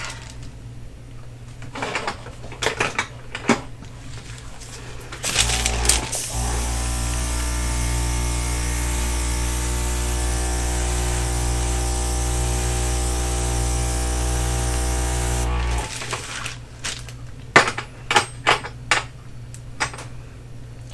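A small electric air blower puffs onto wet acrylic pour paint, a loud steady motor whine with a hissing airflow running about ten seconds, bracketed by scattered tabletop clicks and knocks.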